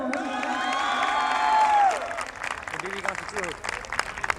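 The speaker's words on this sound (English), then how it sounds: "Applause again for him." Audience applause at an institute's annual day celebration, a burst of clapping and cheering from a crowd that fades after a couple of seconds, with voices and scattered claps continuing underneath.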